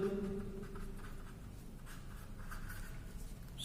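Chalk or marker scraping across a board during an engineering lecture, a steady low scratching texture that runs continuously for several seconds with no talking over it.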